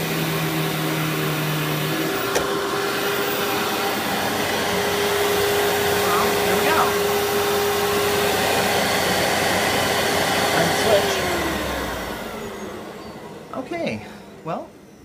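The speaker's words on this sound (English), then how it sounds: "I'm going to vacuum that up" An Amway CMS 1000 Clear Trak cyclonic vacuum cleaner whirs loudly and steadily for about eleven seconds, then powers down and fades, leaving a few faint knocks at the end.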